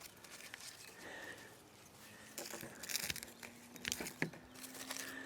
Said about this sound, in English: I'm gonna go right here and I'm gonna rip them out right quick.